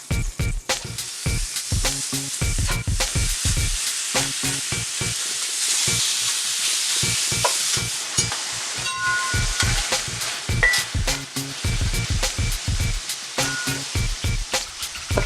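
Chorizo frying in about a tablespoon of olive oil in a pan, a loud continuous sizzle packed with rapid crackles and pops, close up and without speech.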